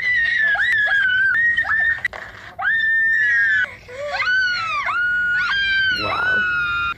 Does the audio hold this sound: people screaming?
yes